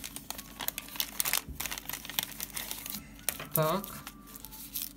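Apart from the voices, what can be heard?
opening a plastic zip-lock bubble wrap package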